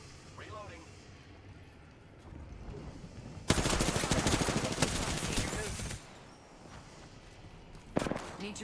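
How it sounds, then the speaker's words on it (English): Weapons fire in the battle royale shooter Apex Legends: a loud sustained burst of rapid shots for a few seconds, then a short sharp volley near the end, with quieter game sounds around it. "Opening fire on the enemy."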